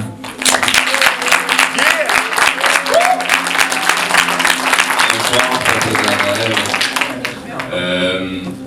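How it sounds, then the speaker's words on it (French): Loud audience applause fills the room, dense and steady for most of the span before tapering near the end, with a bit of voice or music emerging at the close. "Alors, une bonne main d'applaudissements."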